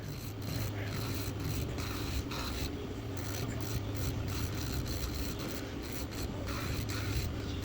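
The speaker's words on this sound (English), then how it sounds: "that was why I wanted the sanding band" Electric nail drill fitted with a sanding band filing leftover pink gel product off a fingernail, a steady close rasping hum with faint rhythmic scratching pulses throughout.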